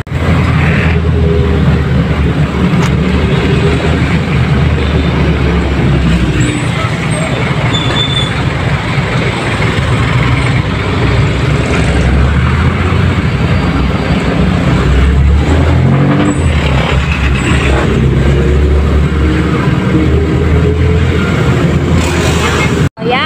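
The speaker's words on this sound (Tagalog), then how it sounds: "Sasakay ng jeep." Ride inside a jeepney through Bagumbong in the Philippines, with a loud engine rumble and road noise that keep surging and easing, plus faint voices in the background.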